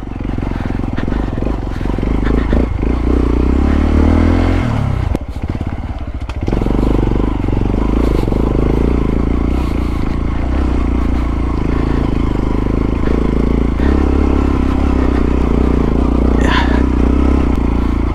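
A motorcycle engine labors steadily up a rough, rocky mountain trail toward a summit, loud and close with clattering and scraping from the terrain, a brief dip midway, and no clear talk.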